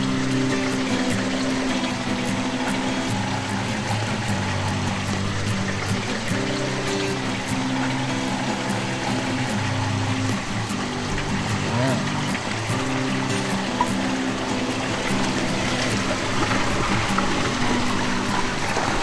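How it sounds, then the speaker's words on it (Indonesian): River water pours into a fish pond in a continuous rushing flow with an underlying mechanical hum, and a voice can be heard faintly beneath it. "saya dapat air dari sungai untuk mengisi kolam ini"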